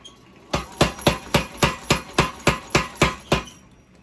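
A blacksmith's hammer forges a hot Damascus steel billet after the final weld set, about eleven sharp, ringing blows in a steady, even rhythm, loud and close with no talk.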